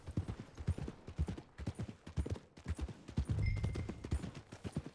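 Horse hooves clip-clop at a steady riding pace in the video game Red Dead Redemption 2, forming a loud, close, rhythmic run of hoofbeats with a brief sustained tone partway through.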